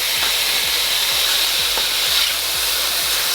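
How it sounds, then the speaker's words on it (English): Loud, steady sizzling of chicken breast frying in a pan, with rhythmic scraping strokes of stirring throughout. No voices. "Love that sizzle."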